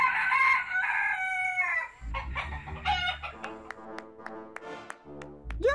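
A rooster crows loudly and close by, a long drawn-out call, followed by clucking and rhythmic animated squawks.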